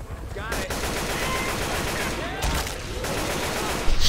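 Rapid, sustained gunfire from the zombie shooter Left 4 Dead 2 during a realism versus match at the Dead Center elevator area, dense bursts filling nearly all four seconds with no break in the shooting.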